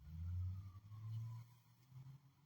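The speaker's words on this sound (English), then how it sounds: "You hear that? A car revving." A car engine revs in low surging bursts, rising and falling twice, heard alone and at moderate distance.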